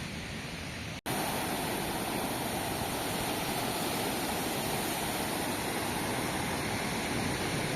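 Sea waves at Puri beach make a steady, broad roar of surf that fills the whole clip, with a brief cut near the start and no voices.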